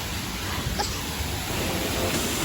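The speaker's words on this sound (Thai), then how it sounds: "ได้ยินเสียงน้ำตกกันไหม" A waterfall in a Thai national park rushes steadily as a constant, even hiss of falling water, heard close and alone without any voices.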